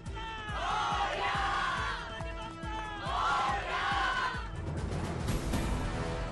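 A crowd cheers and whoops in rhythmic bursts at the India House opening in Paris, with a pulsing beat and loud collective shouts rising and falling.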